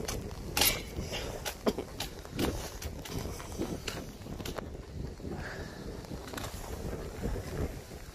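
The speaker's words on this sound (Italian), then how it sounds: "Vento e bufera." Gusty wind and storm outdoors in the rain buffet the microphone with low rumbling gusts, with a few knocks and thumps throughout.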